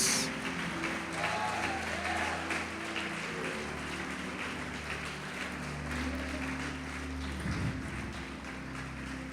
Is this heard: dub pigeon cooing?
no